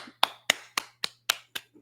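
A single person gives a small round of applause, seven crisp, evenly spaced hand claps at close range in an otherwise quiet room.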